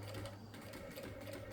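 A sewing machine stitches across an iron caddy with a steady, close, continuous mechanical whir and no voices.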